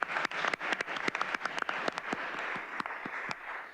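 Applause from the audience at a report launch session, a steady wash of clapping with sharp individual claps standing out, moderately loud and filling the whole stretch without voices.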